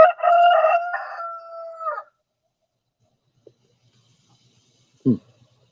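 A rooster gives one loud, full cock-a-doodle-doo crow lasting about two seconds, then near silence with a faint click and a short, distant scratchy sound.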